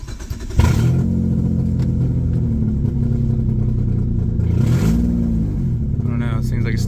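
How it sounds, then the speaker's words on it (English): A car engine with a random misfire idles loudly and close, its steady drone broken by uneven stumbles and a brief rev partway through, with no voices over it. "it seems like it's still misfiring"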